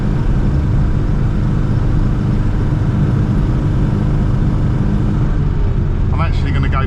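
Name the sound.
Classic Mini car driving on road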